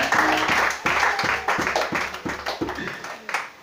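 A church congregation applauding in praise of Jesus, a run of strong, evenly spaced rhythmic claps from a crowd, close and loud, fading slightly toward the end.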